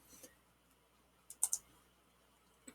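The Enter key on a computer keyboard is pressed during 3D modelling work in TinkerCAD, giving a sharp double click up close, with a couple of fainter taps before and after against a quiet room.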